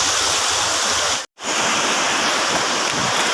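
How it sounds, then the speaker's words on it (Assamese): Loud, dense rushing of fast-moving floodwater, a continuous roar with a brief dropout midway. "এয়া চেঁচা নদী বলীয়া বানৰ কোবত এয়া মেৰামতি কৰা সেই ৰাস্তাও ভাঙি চিঙি সম্পূৰ্ণ তছনছ কৰিছে।"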